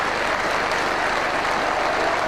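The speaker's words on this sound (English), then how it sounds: "I think applause for both players." Football crowd at a 1999–2000 Wrexham versus Middlesbrough match applauding a player substitution, dense, sustained clapping that fills the stadium without letup.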